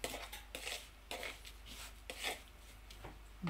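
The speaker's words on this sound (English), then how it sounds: "Should give this a stir." Minced meat mixture stirred in a pot with a utensil, giving a run of scraping, clinking strokes in an uneven rhythm, close and moderately loud with no talking.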